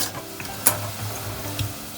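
Gentle sizzling and crackling of tomato paste frying in oil, with soft stirring scrapes and a couple of sharper pops, close up.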